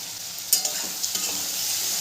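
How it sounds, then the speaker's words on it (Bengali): Potatoes and gourd stems fry in a pan and are stirred, giving a close, continuous sizzle with a couple of brief scraping knocks from the spoon. "ডাঁটা আলুটাকে একটু ভালো করে নেড়ে দেবো।"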